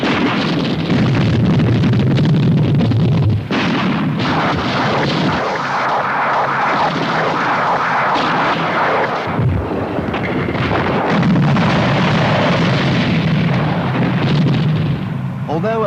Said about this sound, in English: you can expect additional fire from heavier guns and multiple-barreled rocket launchers